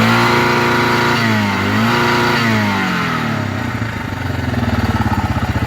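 A loud engine revving hard and bouncing off the rev limiter, first a sustained high roar that sweeps in pitch, then a rapid stuttering pulse as the limiter cuts in repeatedly, close and without voices.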